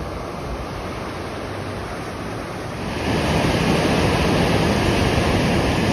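Steady, loud rushing of a waterfall beside a restored bridge, with the broadband roar swelling noticeably halfway through and continuing without any voices.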